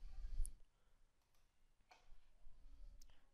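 A computer mouse click lands crisply near the start, followed by a few faint ticks against a quiet room background.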